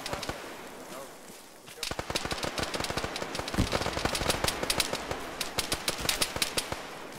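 Video game gunfire crackles in rapid sharp bursts after a quieter opening, tracer rounds flying close overhead, the shots dense and loud for several seconds.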